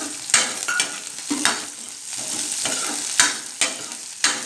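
Onion and green chilies sauteing in a pan, with steady soft frying crackle and repeated sharp stirring scrapes at irregular intervals, close by and alone.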